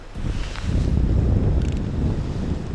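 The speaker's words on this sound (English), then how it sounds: "Holy wind." Strong wind gusts over a remote river in British Columbia, buffeting the microphone with a steady low roar and rumble that swells and holds throughout, with no one talking.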